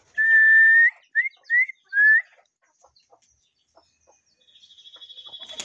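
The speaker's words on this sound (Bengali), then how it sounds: "মুরগি ঠোকরাস না" Chickens in a yard give a few close, high clucks and calls in quick succession, followed by faint pecking taps and a short buzzing rattle at the end.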